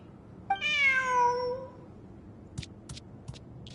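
A single drawn-out cat meow from Genshin Impact rises and falls over a second or so, followed by a few faint, brief clicks.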